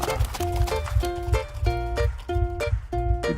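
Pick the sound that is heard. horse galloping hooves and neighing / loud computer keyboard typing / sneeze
horse galloping hooves and neighing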